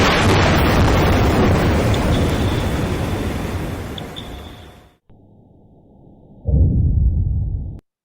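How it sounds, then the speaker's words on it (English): A seismic air-pressure gun fires on the surface for oil and gas prospecting, giving a huge, loud rumbling blast that fades over several seconds before another explosion starts, with no voices. "So they use air pressure gun on the surface, you see in this picture, and every 8 seconds, many of these create a huge explosion"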